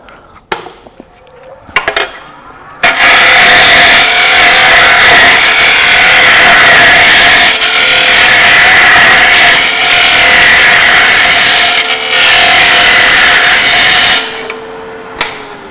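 A hand scraper shear-scraping maple wood, angled and pulled slowly across the surface, making one long, loud, steady rasp lasting about eleven seconds after a few brief knocks and scuffs.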